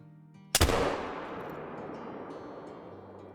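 A single loud muzzleloader shot goes off in the hunting video game Call of the Wild, a sharp blast followed by a long rolling echo that slowly fades over a few seconds with no voices.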